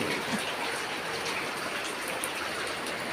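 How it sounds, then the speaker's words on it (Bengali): Steady rain falls on a day of cooking for a Janmashtami celebration at home, a dense continuous hiss of drops at even loudness throughout, with no talking. "যে বৃষ্টি পড়ছে"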